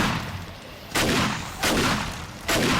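Heavy gunfire in the survival game 7 Days to Die, three loud booming shots with about a second between each, each followed by a long rumbling tail.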